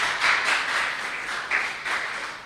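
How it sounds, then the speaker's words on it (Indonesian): Scattered applause from a church worship gathering comes in soft, uneven waves, fairly distant and brief, with no voices over it. "Tepuk tangan dulu buat Tuhan Yesus Kristus"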